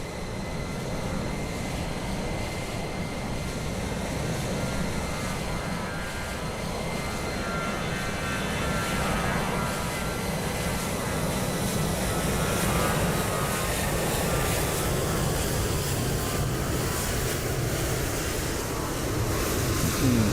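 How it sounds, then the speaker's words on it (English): A Ryanair airliner roars down the runway and climbs out at Dublin Airport in Microsoft Flight Simulator 2020, its jet engines a loud, sustained rumble and whine that holds steady and builds gently for the full stretch, with no talk. "There's the Ryanair that took off just now."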